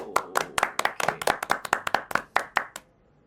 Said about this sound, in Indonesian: Tepuk tangan lu